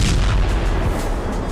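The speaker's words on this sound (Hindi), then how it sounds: "लाल सागर में बारूदी धमाके" Explosive blasts over the Red Sea form a loud, dense, continuous rumbling roar of heavy detonations that fills the whole moment without pause, with no voices.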